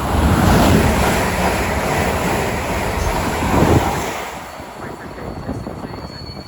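A train rushes through Watford Junction on the West Coast Main Line with a loud, close, rumbling roar that eases off toward the end, leaving quieter rolling noise.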